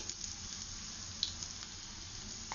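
Garlic and ginger pieces sizzle in hot oil in a steady, close hiss of frying, with a brief pop partway through and no voices.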